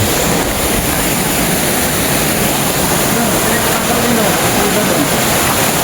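Kaglituan Falls in Maasin City, a steady, loud rush of falling water heard close up, continuous broadband roar with no letup, some wind buffeting on the microphone.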